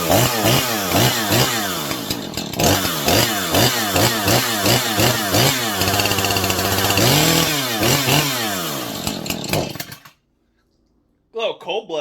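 A Husqvarna 440 chainsaw with a non-adjustable carburetor runs loud and close, blipping its throttle in quick repeated revs, then settling to a steadier drone before cutting out abruptly into silence, with a brief restart of sound at the end.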